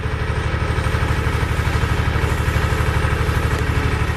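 The engine of a log splitter runs at a steady idle, with a close, even, rapid low throb and some mechanical clatter and no voices.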